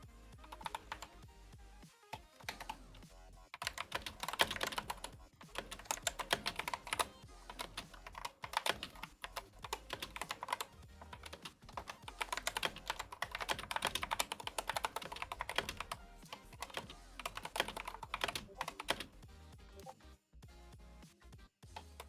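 Fast, clattering keystrokes on a computer keyboard continue for about twenty seconds in irregular bursts with short pauses, close and fairly loud, with no talking over them.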